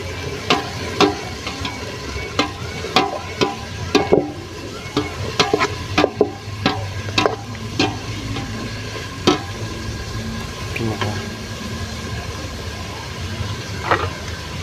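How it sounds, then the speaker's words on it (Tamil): Onions and tomatoes sauté in a pan over village-style cooking for a vegetarian kurma. Repeated scraping, stirring clacks sound over a steady close sizzle, with no talking. "வெங்காயத்தை வதக்கிப்போம்."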